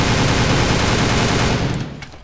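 Keltec RFB rifle firing a rapid string of shots at a wall about 15 meters away, a loud continuous burst of blasts that cuts off near the end and leaves a short fading tail.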